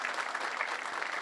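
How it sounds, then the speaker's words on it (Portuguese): Audience applause at an outdoor inauguration of a natural park, a steady wash of clapping from a crowd, fairly distant and even throughout. "Mas salva de palmas para esse povo aí"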